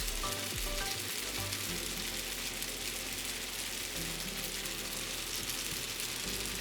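Chicken lo mein made with spaghetti noodles fries in a hot pan as oyster sauce goes in, a dense, steady sizzle that fills the scene, close and even, with no talking.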